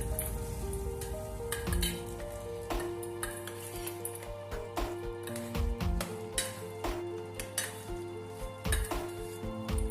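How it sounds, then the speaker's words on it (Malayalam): A spoon stirs hot tempering through rice for South Indian curd rice, with soft scraping and clinks against the pot, a faint sizzle underneath and steady moderate clatter, no voices. "ഇത് നമുക്ക് നന്നായിട്ട് ഇളക്കി മിക്സ് ചെയ്യാം."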